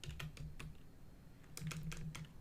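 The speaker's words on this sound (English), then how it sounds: "so when I start typing" Computer keyboard keys clatter in quick bursts of typing, close and fairly quiet, with a short pause in the middle before a second run of keystrokes.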